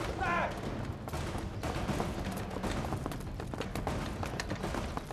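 Gunfire in a war drama set during the fight against Japanese forces: sharp rifle shots and rattling bursts crackle over a dense battle din, with shouting voices mixed in.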